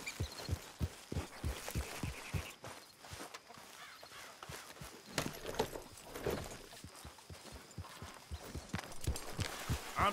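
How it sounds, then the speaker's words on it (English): Horse hooves clip-clop steadily in a Western video game, a regular galloping rhythm of close, distinct hoofbeats running through the whole stretch with no talk. "Tell Dutch I'm taking his horse."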